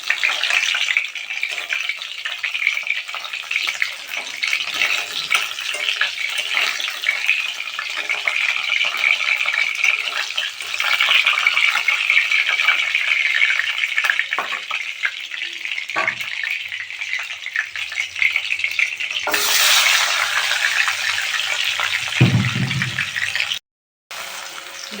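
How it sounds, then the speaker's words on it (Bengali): Rohu fish pieces fry in hot oil in a Bengali kitchen, giving a steady, dense sizzle that runs close and loud throughout, with a brief clatter and dip near the end as the pieces are lifted out. "মাছগুলো লাল লাল করে ভাজা হয়ে গেছে, আমি তুলে নিচ্ছি এবার।"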